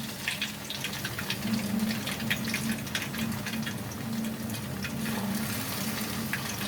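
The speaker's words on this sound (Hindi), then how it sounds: "ऑयल अच्छा खासा गरम हो गया है और अब हम बीच में इसमें डालेंगे इस बैटर को इस तरीके से" Ghewar batter is poured into hot oil and fries with a steady, soft sizzle and crackle, faint and continuous with no talking.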